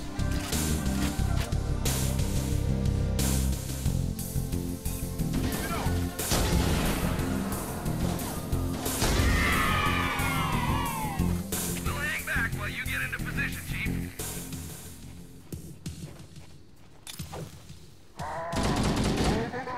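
Rapid bursts of gunfire in the video game Halo, loud and repeated through a busy battle mix with music and whooshing effects, while voices talk over the action.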